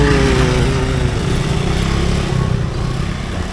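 Engines of motorcycles and cars idle and rev together in a queue climbing a hill on a road near a landslide repair, a steady close mechanical drone filling the whole stretch.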